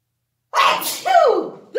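A single sharp, loud sneeze close to the microphone in a classroom lesson: a breathy burst followed by a voiced falling cry, with silence before it.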